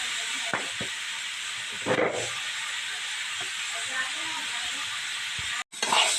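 Cucumber pieces frying in a pan with curry leaves, a steady soft hiss of sizzling oil throughout, with a few small clicks and a brief break near the end.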